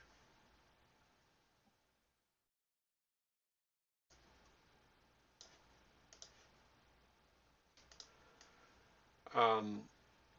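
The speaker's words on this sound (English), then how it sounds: "So we're just going to, type it out or dictate it out" Computer keyboard typing comes in scattered short bursts of clicks after a quiet gap, close and fairly soft, with a louder sharp burst near the end.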